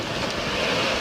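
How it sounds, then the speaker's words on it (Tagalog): Storm waves pound a seawall in Quezon during a typhoon, a dense continuous roar of surf and spray mixed with heavy wind noise, loud and close with no pauses and no voices. "mabagsik ang mga along humampas sa seawall"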